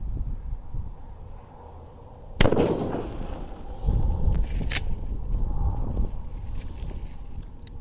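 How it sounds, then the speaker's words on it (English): A rifle with an 18-inch barrel firing at water jugs outdoors: one sharp, loud report followed by splashing and a lingering wash of noise. "But let's shoot these jugs, see what happens."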